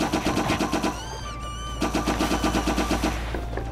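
Rapid automatic gunfire in a video game fight, loud repeated bursts of shots with a short pause in the middle while a rising whistling tone sweeps through, then firing resumes.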